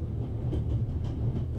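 A train rolling along its rails in the video game The Raven, heard from inside as a low, continuous rumble with soft rhythmic clatter, steady throughout the brief moment and with no talking.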